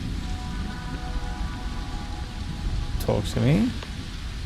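Steady rain falls on an alien planet in a space video game, a constant hiss under a voice speaking briefly, with a couple of sharper swooshing effects near the end.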